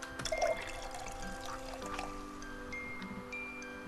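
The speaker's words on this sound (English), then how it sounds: "He pours me a cup of coffee from his canteen instead." Coffee trickles from a canteen into a cup in a video game, a short, quiet pour over soft background music.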